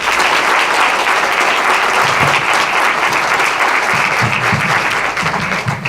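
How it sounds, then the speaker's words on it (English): Audience applause for award winners at an awards evening, a loud, sustained wash of clapping from a large crowd that continues evenly throughout, with faint voices underneath. "let's give all those winners a round of applause."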